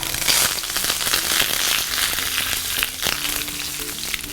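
Mustard seeds, dried chilies and curry leaves sizzling in hot oil for a dhokla tempering, a loud close crackling fry with scattered popping throughout.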